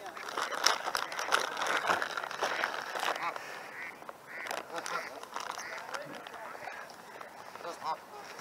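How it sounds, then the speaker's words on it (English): Mallard hens quacking in a busy, overlapping chorus at moderate distance in a Seattle neighborhood, mixed with rustling and outdoor noise. "All that they're quacking right there, that's the mallard hens."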